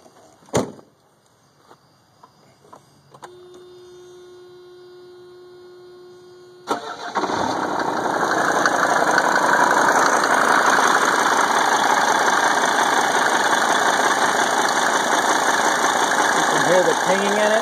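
1991 Mercedes 300D diesel with engine issues: a click and a brief dash chime, then the engine cranks and catches into a loud, steady idle with a persistent pinging knock running through it.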